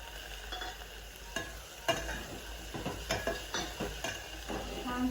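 Brinjal, potato and peas sauté in a pan with a soft sizzle under repeated clinks and scrapes of a spoon against the metal, close and uneven in rhythm, no voices.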